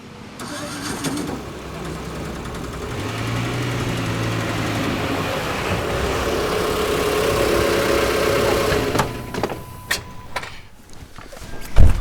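An auto rickshaw engine runs loud and close, a rough, sustained drone that builds and holds before breaking into uneven sputters and knocks toward the end, no speech over it.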